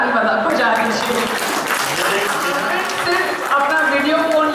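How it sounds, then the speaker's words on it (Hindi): A large audience claps loudly and continuously at a lively public event, a dense wash of hands with voices talking and calling out through it. "तो आप जोर से ताली बजा दीजिए।"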